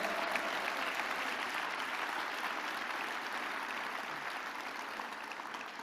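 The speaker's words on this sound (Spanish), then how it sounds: "Denle un aplauso más fuerte al Señor." A church congregation at a Sunday service claps together in a steady, evenly sustained wash of applause, heard at a moderate distance and fairly soft, with no clear voices over it.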